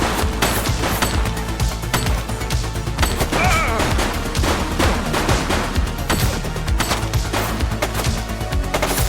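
Gunfire in the police game The Precinct: dense, rapid shots and crashing blasts go on without a break, loud and close, with no speech.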